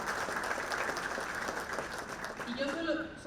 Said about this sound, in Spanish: Así que creo que también los docentes de la Frater merecen ese fuerte aplauso